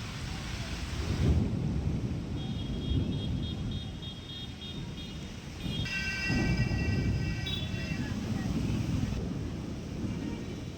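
Heavy, day-long rain roars steadily over Nagpur with low rumbling, like distant thunder or passing traffic, and faint tonal chirps drift in the background.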